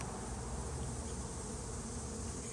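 Honey bees swarm and buzz around an open backyard hive during an inspection, making a dense, steady hum that stays even and moderately close throughout.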